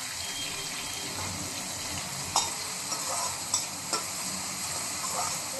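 Onions and tomatoes for fried rice stir-frying in a pan, a steady broad sizzle with a few sharp scraping clacks of the spoon against the pan.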